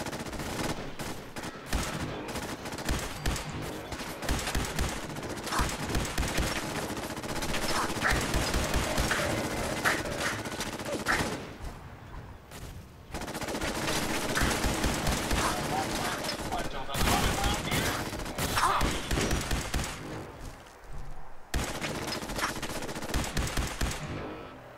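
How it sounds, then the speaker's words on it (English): Sustained automatic gunfire and bursts from weapons in the Fallout 4 video game, loud and dense across the whole stretch with brief pauses, layered with in-game effects and occasional voices. "Gun down everything that moves."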